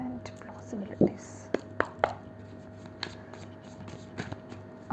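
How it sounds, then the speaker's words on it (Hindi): Tarot cards being shuffled and drawn from the deck at a reading, heard as a few soft, close papery flicks and taps against a quiet indoor background with a faint steady hum. "पहले मैं कार्ड्स निकाल लेती हूँ"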